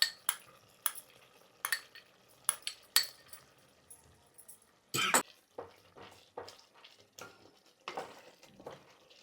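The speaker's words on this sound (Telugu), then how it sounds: "ఈ ఆవపిండిని కూడా మనం ఇందులో కలిపేసుకుందాం." A utensil stirs mustard powder into a pot of kanda bachali curry, made with elephant yam and Malabar spinach. Sharp scraping and clinking strokes come in an irregular rhythm, close and clear, with quiet pauses between them.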